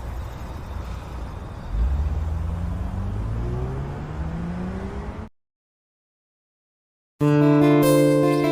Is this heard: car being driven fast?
yes